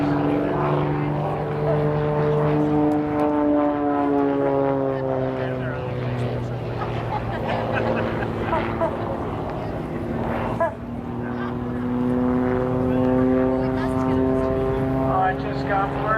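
A vintage WWII-era propeller airplane drones steadily while performing aerobatics at an airshow, its engine pitch slowly sliding up and down as it climbs vertical and pulls through, with a commentator talking over it throughout.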